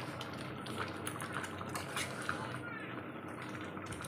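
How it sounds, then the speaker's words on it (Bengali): Mango pickle stirred with a roasted spice mix in a pan: soft, steady scraping and light clinks of a utensil against the metal, close and quiet. "তো এইভাবে আস্তে আস্তে নাড়তে থাকবো"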